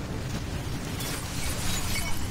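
A deep, rumbling tank explosion in Battlefield 1 fills the clip with dense low noise and a sharp crackling burst partway through, loud and sustained without voices.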